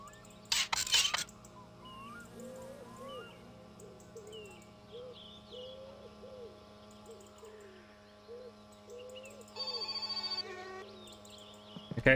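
A telephone rings in the video game My Summer Car, a short burst of bright ringing near the start and again later, set against a quiet ambience of hooting and bird calls.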